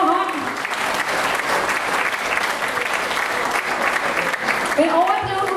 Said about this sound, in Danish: Mine damer og herrer, Mogens Fjeldsø. En stor hånd.